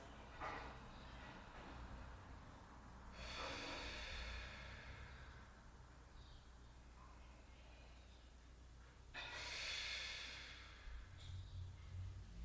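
Slow, deep breaths during a yoga practice, heard as a few soft, airy inhales and exhales spaced several seconds apart, faint and close against a quiet room.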